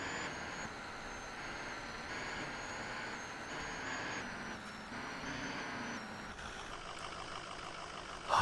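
A truck in Farming Simulator 19 roaring steadily with a loud, continuous engine drone that shifts slightly in pitch under heavy load, with a brief burst at the very end.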